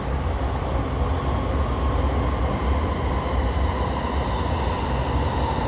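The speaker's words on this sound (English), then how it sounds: "I hear a train." A train rolls past continuously, a steady loud rumble of rail cars and wheels on track with dense low-frequency roar and no gaps, heard close by with no talking over it.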